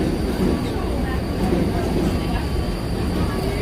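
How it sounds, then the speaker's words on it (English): A subway train rumbles below the busy 34th Street Herald Square station in New York City, a continuous loud roar under the evening street crowd and traffic noise. "And we hear subway down there, as 34th Street Herald Square is a pretty busy subway station all the time."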